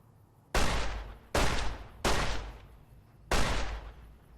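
Four heavy gunshots in the video game Fallout: New Vegas, loud close booms with long decaying tails, spaced irregularly under a quiet background.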